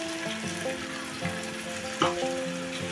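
Tomato and mustard paste hits a hot pan for a Bengali-style pakora curry, sizzling and crackling steadily with stirring clicks and a sharper spatter around the two-second mark.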